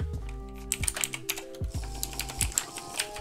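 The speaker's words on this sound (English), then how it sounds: "I'm jitter clicking." A computer mouse is jitter-clicked rapidly while gaming in Skywars, producing fast, uneven bursts of close, sharp plastic clicks over a steady low background.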